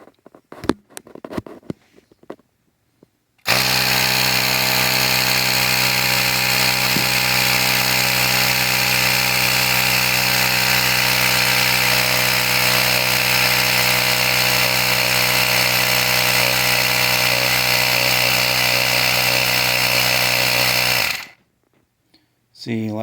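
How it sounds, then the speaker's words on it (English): RYOBI 18V One+ cordless inflator pumping up to pressure, a loud steady buzzing motor drone that starts abruptly, runs unbroken for about eighteen seconds and cuts off, with brief handling noise around it. "So let's pump it up to 12 pounds."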